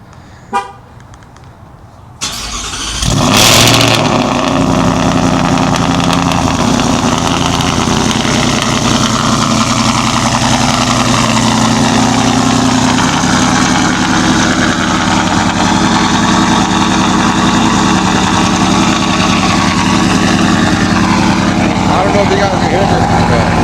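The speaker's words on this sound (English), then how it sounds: "we're gonna turn on the truck now, see how loud it is" A 2024 Ford F-150 fitted with a Whipple supercharger fires up after a brief quiet moment, then settles into a loud, steady, droning idle that runs continuously close by with no letup.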